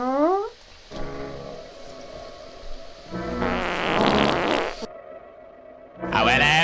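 Cartoonish fart sound effects on a horror-movie hosting show: a rising squeaky blast, then longer buzzing, sputtering flatulence noises, loud and close, ending with another sharp squeal.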